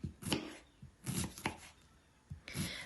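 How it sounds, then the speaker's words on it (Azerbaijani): Knife finely chopping a firm head of red cabbage on a board, a few separated bursts of crisp close cuts with short pauses between them, no talking. "Bir ədəd bərk kələm götürmüşəm içili üçün. Bunu xırda-xırda doğrayıram."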